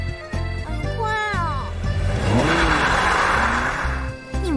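A car revs and accelerates away, its engine tone rising and sweeping upward in the middle, loud and close, with music or other tonal sounds running through the scene.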